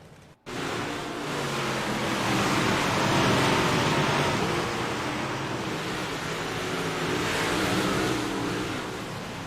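Big Block Modified race cars roar around the Lanier track, a continuous loud wash of engine noise that swells as the pack passes and stays dense throughout.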